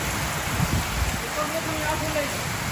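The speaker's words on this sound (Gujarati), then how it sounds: "ફૂલ પવન સાથે વરસાદ ચાલુ થઈ ગયો છે" Heavy rain driven by strong wind in Savarkundala, Amreli district, makes a dense, continuous hiss with no breaks across the short stretch.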